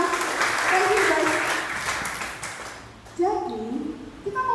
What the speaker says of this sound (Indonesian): Berikan tepuk tangan dulu untuk teman-teman kita.